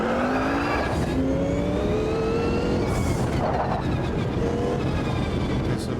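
Race car engine in Automobilista 2 revving loudly, pitch climbing and dropping through several sweeps as it is blipped and shifted, with a rough, buzzing low end throughout.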